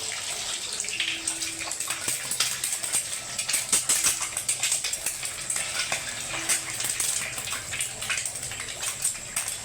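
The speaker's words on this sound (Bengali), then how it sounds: "এই 3টে ডিমকে একদম ধুরি ভাজা করে ভেজে নেব।" Eggs fry in hot oil in a wok, giving a continuous, close crackling sizzle with scattered pops and no talking.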